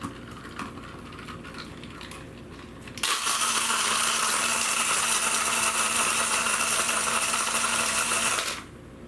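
A small portable blender whirs into action after a few seconds, blending ice with a steady high-pitched motor whine and rattling before cutting off near the end.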